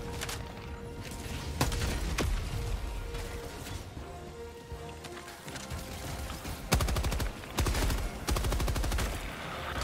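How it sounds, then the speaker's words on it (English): Machine gun fire in a sci-fi shooter video game, rapid bursts of rattling shots with a heavy, dense volley near the end, loud and close with no talk. "I've got a uh, machine gun coming in."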